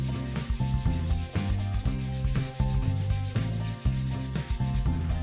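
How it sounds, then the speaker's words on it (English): P120 sandpaper rubs back and forth along the rough edge of a PVC foam board, a close, steady rhythmic scratching of repeated strokes with no talking. "Start off by sanding down the coarse or the rough edge."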